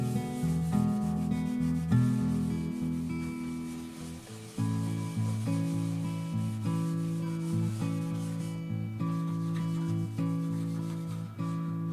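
A wooden piece gets finish sanded between coats, steady rhythmic rubbing strokes heard close and alone for about twelve seconds, with a musical tone ringing through the strokes.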